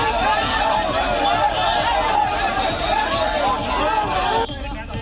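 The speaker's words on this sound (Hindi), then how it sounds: "चोर चोर के नारे लगाती इस भीड़ ने उन्हें पीटा भी और अंडे भी मारे।" An angry mob chants and shouts together in a continuous roar of crowd voices at a trade union leader, loud and close, before the noise drops abruptly near the end.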